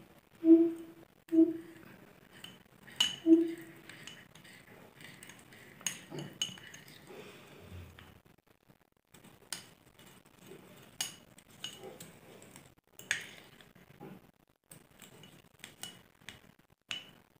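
Metal spoon clinking against a bowl while stirring natural hair dye oil, a series of light, irregular taps and scrapes, close and fairly quiet, with some soft speech in between.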